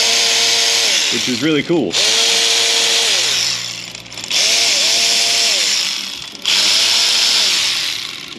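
A power tool runs down bolts around the perimeter of a new cover on a 2012 Chevrolet Avalanche 5.3, giving several loud whirring bursts with rising pitch and short pauses between them, and someone talks briefly in between.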